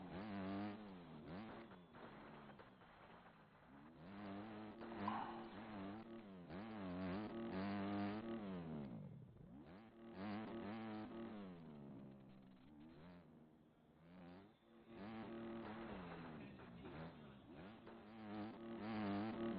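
Dirt bike engine in the MX Bikes motocross game, revving and droning continuously with rising and falling pitch sweeps as the throttle opens and closes, steady and loud throughout with no voices.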